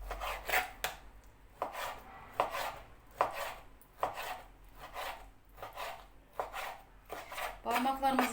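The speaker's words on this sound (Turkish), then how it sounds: "Tavuklar önce tavuk göğsünü doğrayayım." Rapid knife chopping of chicken breast on a cutting board, repeated sharp thuds in bursts with short pauses, close and fairly loud, with a faint voice nearby.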